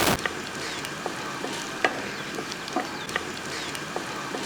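Drumsticks and curry leaves fry in a pan with a soft, steady sizzle, broken by occasional sharp taps and scrapes as they are stirred.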